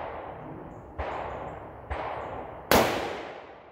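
A Howa 1500 rifle firing ELD Match ammunition lets off three sharp, loud, close shots, each about a second apart with a short ringing tail, and no voices.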